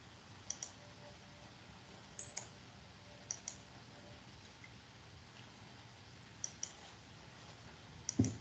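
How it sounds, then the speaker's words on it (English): Computer mouse clicking, sharp isolated clicks in small pairs and groups spread across several seconds, close and crisp over a faint background hiss. "That's all I'm doing is right-clicking on the photo."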